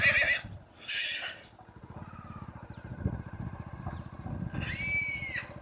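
A grey horse whinnies in open countryside, with two short neighs at the start and a longer, louder one at the end, over a low rumbling engine idling nearby throughout.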